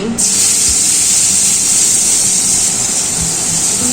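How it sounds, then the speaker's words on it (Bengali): Chopped onions hit hot fish-frying oil already seasoned with cardamom and cinnamon, producing a loud, sustained hissing sizzle that starts abruptly and stays dense throughout, with a couple of faint knocks underneath. "মাছ ভাজা তেলের মধ্যেই ফোড়নে দিয়ে দিচ্ছি এলাচ, দারচিনি। এবার দিয়ে দিচ্ছি পেঁয়াজ কুচি।"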